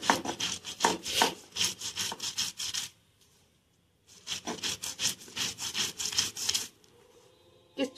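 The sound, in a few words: grinding soaked lentils (dal) into batter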